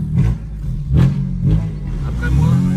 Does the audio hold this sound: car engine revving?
yes